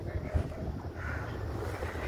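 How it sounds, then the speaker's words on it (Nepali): Wind gusts steadily across a hilltop viewpoint near a village, a low continuous rushing roar buffeting the microphone, with no other clear sounds. "सरर हावा लाग्छ हेर्नुहोस्"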